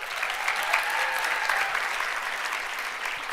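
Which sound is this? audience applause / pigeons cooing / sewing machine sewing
audience applause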